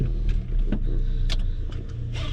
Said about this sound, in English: Let's let the car warm up a little bit.